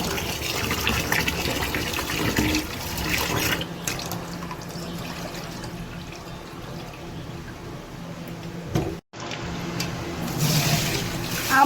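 Boiled polao rice is shaken in a strainer, water gushing and splashing through it in a steady, fairly close rush that briefly cuts off near the end before pouring on again.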